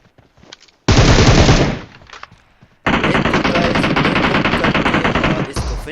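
Rapid automatic fire from an M7 rifle in the mobile game PUBG Mobile: a loud burst of about a second, a short lull, then a longer sustained burst of nearly three seconds.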